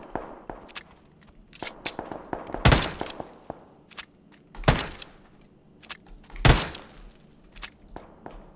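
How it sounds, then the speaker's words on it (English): Uzi submachine gun firing in the video game PUBG, loud rapid bursts of sharp cracks repeating every couple of seconds, with scattered clicks and clatter between volleys and no talking. "here's an Uzi. Let's try this."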